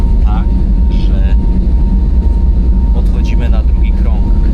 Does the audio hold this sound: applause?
no